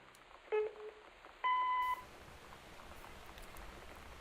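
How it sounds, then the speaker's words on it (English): An answering machine in the game Gone Home gives two short electronic beeps, a low tone and then a higher, longer one, heard clearly over soft steady rain. "We can see that the answer phone has 3 unread messages."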